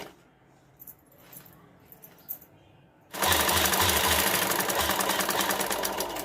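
An electric sewing machine stitches a handmade bag: after a quiet start with light handling noises, a loud, close, continuous rattling whir kicks in and runs steadily to the end.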